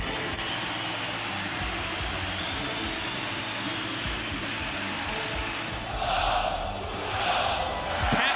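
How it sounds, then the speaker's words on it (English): Crowd roaring at the EU LCS Summer 2018 playoffs grand final, Fnatic against Schalke 04, a steady wash of cheering that swells louder in bursts near the end, heard along with a fast-talking commentator. "The crowd is so excited."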